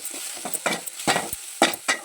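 Grated coconut and cooked tomato frying for sambar are stirred in a hot pan: a run of quick, close scraping strokes over a crackling sizzle.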